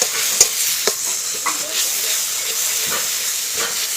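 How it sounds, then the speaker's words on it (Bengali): Ridge gourd peel paste sizzles and fries in hot oil while being stirred, a steady close hiss broken by several sharp scraping stirs of the spoon against the pan, with no talking. "তেলটার সঙ্গে কিন্তু ভালো করে ঝিঙার পেস্টটা কিন্তু আমি মিশিয়ে নিচ্ছি।"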